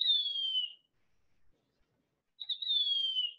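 Two thin, high, descending whistled calls of a Mississippi kite, each lasting under a second, separated by a short silence, clear and fairly close with no other sound.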